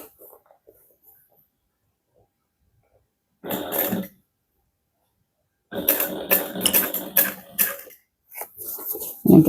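A sewing machine set to a longer stitch length sews the side seam of a handbag in three bursts, first a short run, then a longer run, then another burst after quiet pauses.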